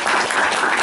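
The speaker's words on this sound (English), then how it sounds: "we say an applause to our guest" A lecture audience applauds their guest speaker at an institute talk on Latin American politics, a steady, dense wash of clapping in a short burst.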